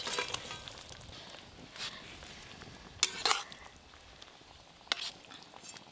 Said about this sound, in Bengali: এবার ভেজে রাখা তুল মাছগুলো সব দিয়ে দেব।